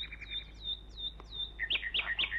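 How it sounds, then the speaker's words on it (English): Nightingales sing high in the treetops in a Bagpuss animated storybook scene, a run of clear chirping phrases followed by brighter, louder trilling notes, with no voices over them. "the nightingales were singing"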